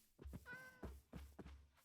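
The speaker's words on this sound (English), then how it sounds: "I heard a cat." A cat in a video game gives a single drawn-out meow, framed by dull thumping footsteps and movement noises, all fairly close and moderately loud with no talking.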